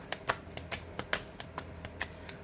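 A deck of tarot cards is cut and handled, giving a series of crisp, light card flicks and slaps at an uneven pace, close and quiet with no talk.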